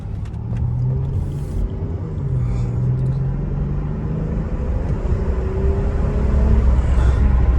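A 2018 Chrysler 300S V6 engine drones low and steady from inside the car, its pitch rising and shifting as it accelerates, with a constant road rumble underneath.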